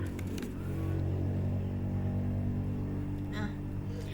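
A motorcycle rumbles past close by, a loud steady engine drone with a low throbbing tone that holds throughout, and a voice speaks briefly over it.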